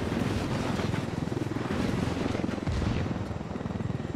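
A helicopter in the video game Ghost Recon chops steadily up close, a loud rhythmic rotor thump over a rumbling engine drone that holds for several seconds.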